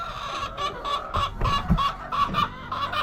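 Chickens inside a coop cluck close by in short, repeated bursts, several birds overlapping in a loose, uneven rhythm.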